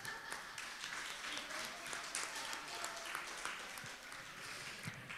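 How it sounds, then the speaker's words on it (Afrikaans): Faint applause from a church audience, soft scattered clapping spread evenly across a few seconds at a low level. "Geef hulle almal 'n hande klap"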